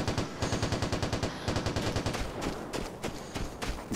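RPK machine gun fire in the video game Vigor, a rapid string of evenly spaced shots in quick bursts that later thin into scattered, more separated cracks, loud and close with no talk.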